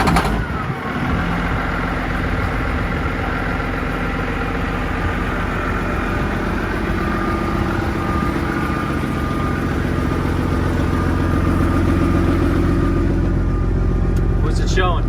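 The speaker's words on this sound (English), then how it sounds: "Oh, it's idling a little fast." A Peterbilt 379 truck engine idles slightly fast and steadily at close range, a constant low rumble that never changes pace throughout, with faint voices underneath.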